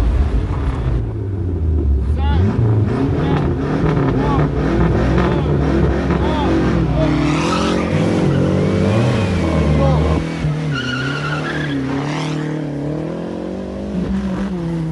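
A rally car at the 1988 Rallye du Mont-Blanc roars past at speed, engine loud and revving hard with rising and falling pitch, a second car following close behind, while a commentator talks over it.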